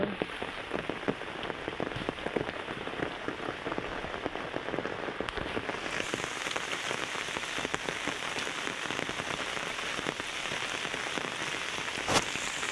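Steady rain falls on a field with sheep, a dense hiss of drops pattering on surfaces with occasional louder splashes, no voices.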